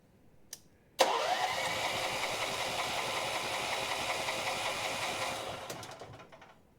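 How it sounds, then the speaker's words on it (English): A small engine is started with the choke off, a brief click, then it catches and runs with a steady buzzing, knocking idle for several seconds before fading and dying out, close and loud with no talking. "I want to see if it starts with the choke off"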